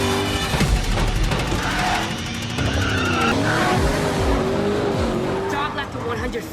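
Race cars accelerating hard at the start of a race, engines roaring continuously with rising and falling pitch, tires skidding and squealing amid the din, with a voice partly audible underneath.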